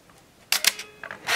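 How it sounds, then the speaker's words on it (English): A quiet room, then a sharp shutter click from a Canon Sure Shot Quartz Date 35mm film camera, followed by a brief whirring wind of its film advance motor, with a second short whir after. "I saw the shutter operate, and we heard the motor wind"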